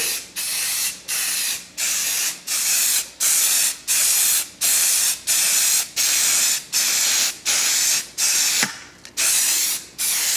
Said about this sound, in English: we'll just give him a little bit of a spray